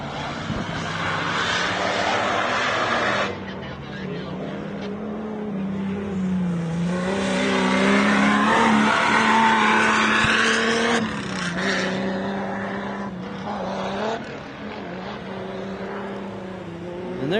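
A stock Jeep races a lap at the MetalCloak Stampede off-road event, its engine roaring loud and steady with revving surges and rising pitch throughout, a dense continuous drone without pause.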